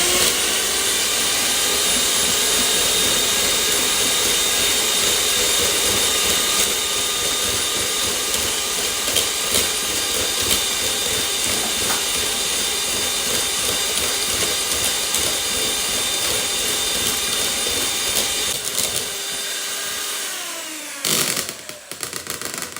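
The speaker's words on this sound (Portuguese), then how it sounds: "E depois, então, é que vamos bater as claras até que elas fiquem," A stand mixer whips egg whites to stiff peaks for an angel cake, a loud continuous high motor whir that runs steadily for most of the moment before cutting off near the end.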